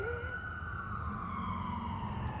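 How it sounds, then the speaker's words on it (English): An ambulance siren wails outside, a steady sweeping tone over low traffic rumble, fairly distant and continuous with no talk over it. "That's actually an ambulance."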